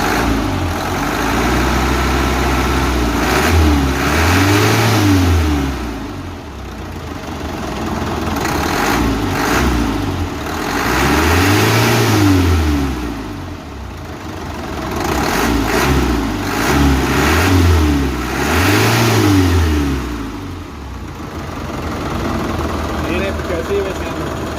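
Ragasa truck diesel engine, 120 PS versus 135 PS versions, revving repeatedly from idle with a low turbo whine, several loud rising-and-falling surges close by while people talk over it.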